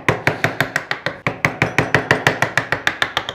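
Mallet blows on a medium chisel carving wood, about twenty sharp, evenly spaced knocks in a quick steady rhythm, close and loud with no talk.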